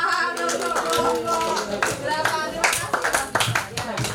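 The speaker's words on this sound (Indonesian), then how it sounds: "Tepuk tangan untuk kelas 8C semuanya." Students of a grade 8 mathematics class clapping together in a classroom, a dense run of hand claps with some voices mixed in, fairly loud and close.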